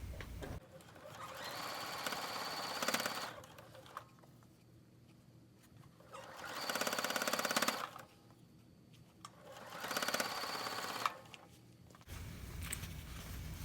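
A sewing machine stitches pieces of a wonky star quilt block in three separate runs of a few seconds each, close and steady, with quieter handling sounds in the gaps between.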